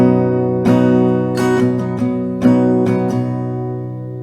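An acoustic guitar strums the verse pattern of a song in down and up strokes, ringing chords with sharp attacks at irregular intervals, played close and clear with no voices.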